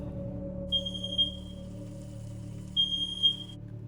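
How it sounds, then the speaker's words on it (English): A kitchen timer alarm goes off to signal fries are done cooking, giving steady high-pitched electronic tones in two bursts over a low background hum. "I literally had an alarm going off to tell me my fries were cooked"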